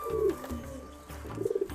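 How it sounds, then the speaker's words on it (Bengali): A Bombay-breed pigeon coos at a village pigeon farm, a male with a hen nearby. Two soft, throaty coos sound close at hand, the second a quick warbling roll, with no voices. "এটা হচ্ছে বোম্বাই জাতের কবুতর।"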